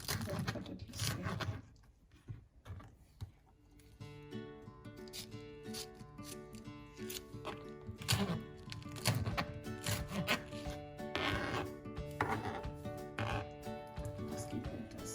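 A kitchen knife slices through ingredients on a cutting board for Goan prawn chilli fry, with repeated taps and scraping strokes under background music and a talking voice.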